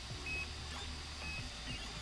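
A Voron V0.1 3D printer with an LGX Lite extruder runs continuously, a steady mechanical whir and hum with faint motor tones and small repeated movements, close and moderately loud, with no voices.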